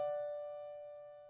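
A single diminished chord sounding once, held as a steady sustained tone that fades softly over about a second, quiet and alone.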